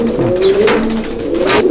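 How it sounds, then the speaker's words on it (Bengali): Teddy pigeons in a loft give a close, loud, rolling coo that carries alone through the short moment. "কবুতরটা ছেড়ে দেখাচ্ছি, দেখো কী জিনিস আছে"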